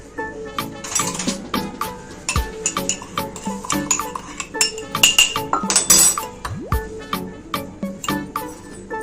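A spoon clinks and scrapes against a bowl while oil and a cup of sugar are mixed for a no-oven chocolate marble cake, giving a busy run of bright, close taps and rattles with no talk.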